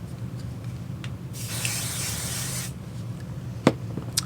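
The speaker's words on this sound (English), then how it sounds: "I'm going to use a little bit of basting spray to secure this piece of felt" A steady hiss of aerosol basting spray lasts a little over a second, close and fairly loud, with faint handling clicks before and after.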